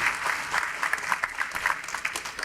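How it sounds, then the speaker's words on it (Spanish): A church congregation claps together after a sermon, dense steady applause with rapid overlapping hand claps holding at an even level for a couple of seconds, with no talk. "denle un aplauso"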